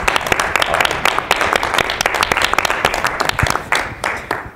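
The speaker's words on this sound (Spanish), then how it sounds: "¿por qué no le damos un aplauso a Manu" A studio audience at a magic show claps loudly for a magician, sharp individual hand claps standing out within a dense burst of applause that fades near the end.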